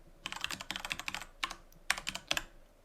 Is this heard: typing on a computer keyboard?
yes